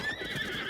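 Wild horses in Zelda: Breath of the Wild neigh in a bright, wavering whinny, heard alone with faint hoof clip-clop beneath, moderately quiet.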